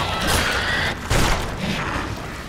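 A loud, booming explosion in The Witcher 2 with a burst of crackling debris, followed by a sustained rumbling roar that fades slightly.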